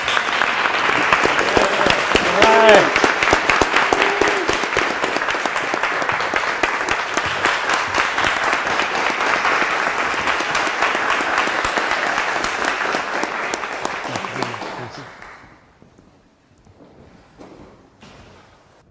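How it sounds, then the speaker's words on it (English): A room full of people gives a long, steady round of dense applause after a talk at a Toastmasters-style speaking event. The clapping is held for about fifteen seconds, then dies away, and a brief voice follows. "Can we please give a round of applause?"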